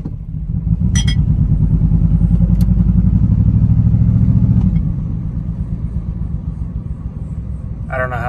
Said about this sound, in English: My truck sounds horrible. Wheel bearings or something.